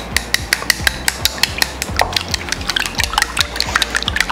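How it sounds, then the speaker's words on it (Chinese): Six raw eggs with a little salt whisked in a bowl, a rapid run of sharp regular clicks and taps from the utensil against the bowl, close and steady throughout with no talk. "然后搅拌。"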